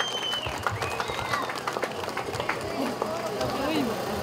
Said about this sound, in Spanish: Vamos a brindarle el aplauso a ganaderos y jinetes que han llegado en esta tarde